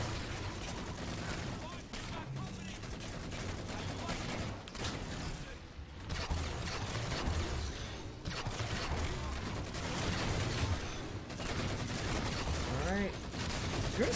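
Halo 4 gameplay gunfire: repeated rapid bursts of weapon fire with mechanical clatter, coming in waves separated by short pauses, mixed with other game sounds and occasional voices.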